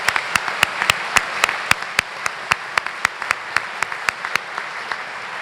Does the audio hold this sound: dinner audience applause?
yes